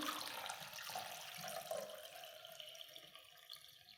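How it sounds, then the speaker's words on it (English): Water is poured into a flower vessel holding flower food, a soft continuous trickle and splash that stays faint and close with no talk. "fill the vessel with flower food, water."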